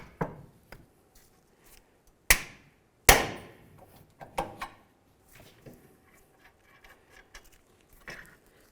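Sharp metallic hammer strikes on a pickle fork separating the front lower ball joint of a 2002-2006 Honda CR-V, two heavy blows among lighter taps and scattered tool clatter, no talking.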